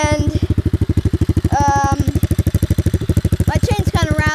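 A quad bike idles close by with loud, fast, even engine pulses and a loose clattering rattle from its chain; a faint voice may be mixed in.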